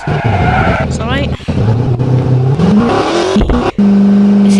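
Car in the 3D Driving Class video game on boost mode, engine revving and rising in pitch with skidding tire squeals, loud and continuous, with game music or effects layered over it.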